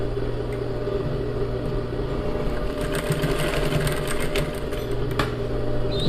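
A sewing machine hums continuously nearby, stitching a diagonal finishing seam on a sleeveless blouse with a steady motor drone and faint rattles.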